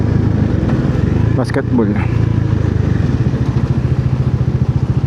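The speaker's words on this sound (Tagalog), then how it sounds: "Anong motor yun? Ducati ba yun? O Benelli?" A Ducati or Benelli motorcycle rumbles close by with a loud, steady mid-pitched engine drone and rhythmic pulsing, while a person talks over it.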